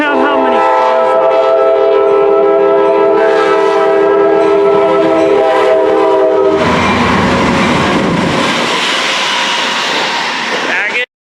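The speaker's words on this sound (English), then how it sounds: "Our first train is Metrolink 116, now headed to Union Station." Metrolink 116 rolls past the platform at Glendale, bound for Union Station. Its horn blares loud and sustained for several seconds. A rushing, rumbling roar of wheels and cars follows as it goes by close up.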